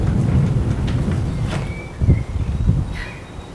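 A mechanical cottage's roof closes, producing a low, continuous rumble like distant thunder or heavy rain, with occasional thuds and faint squeaks over a steady loud bed.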